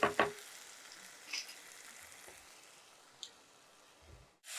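Onion, tomato and okra sauté quietly in a pan for an egg and okra curry, giving a soft, steady sizzle. A few brief stirring clatters and taps come through up close.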